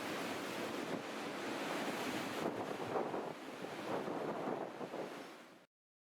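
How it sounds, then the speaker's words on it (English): Irish Sea waves surging against Blackpool's North Pier an hour after high tide, a steady broad roar of surf with wind buffeting the microphone, fairly loud and continuous before cutting off abruptly. "Just a little clip for you to see the Irish Sea against the North Pier."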